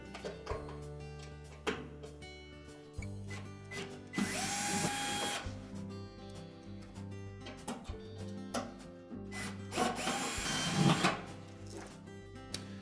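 A power drill backs screws out of the front panel of a Whirlpool washer in several short, whirring bursts, with clicks and handling clatter between them, close and moderately loud, and no speech.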